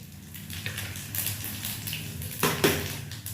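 Cumin and five-spice seeds being stirred and fried in a pan, with scraping and clinking of a utensil against the pan over a soft sizzle, rising to a louder scrape near the end.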